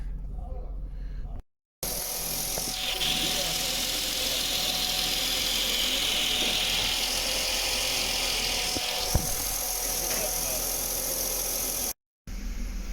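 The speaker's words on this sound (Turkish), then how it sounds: "Şimdi çalıştırdık bakalım ne kadar sürede 80'e gelecek." A Mercedes W140 S320 runs steadily just after a cold start, a continuous close engine drone with a persistent hiss and hum, briefly cut off at the start and end.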